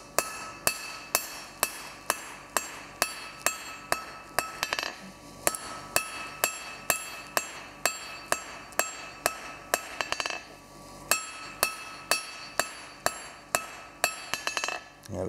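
A blacksmith's hammer strikes a hot steel bar on an anvil while forging an octagonal taper by hand, sharp ringing blows in a fast, steady rhythm, with a couple of brief pauses between runs.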